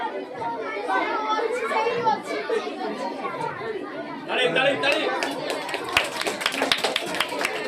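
Scattered hand clapping rises over a busy background of children's chatter and playground noise at a high school teachers' day celebration, with sharper claps clustering toward the end.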